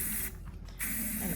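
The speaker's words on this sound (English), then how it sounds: "so I'm just gonna spray a little bit on the inside" A spray can hisses in a short, steady burst lasting under half a second, coating the inside of a garden pot, close and clear against faint room noise.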